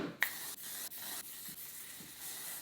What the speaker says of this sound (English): Then we hit it with the hairspray. This is the Ouai Soft Hairspray.